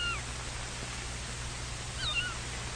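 A cat meows on an old 1953 film soundtrack, with two faint, short meows, one at the start and one near the end, half buried under steady hiss and hum.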